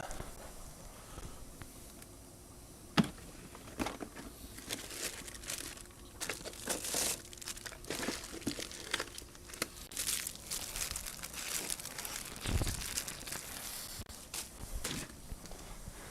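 Paper crinkling and rustling up close, with irregular crisp crackles and soft handling noises, fairly quiet and without talk.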